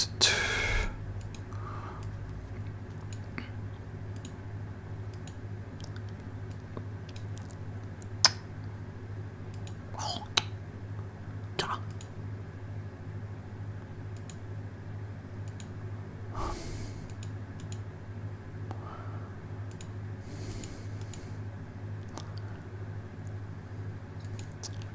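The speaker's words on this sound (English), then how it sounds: "It's a bit hard to hit the keyboard because I have to go around the microphone where the microphone is." Computer keyboard typing during a game session, sparse light clicks and occasional sharper taps scattered over a steady low hum, fairly faint and without talk.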